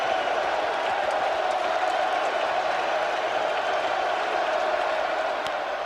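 A large baseball crowd at Fenway Park during the 1986 World Series roars in a steady, dense wash of noise that holds evenly throughout.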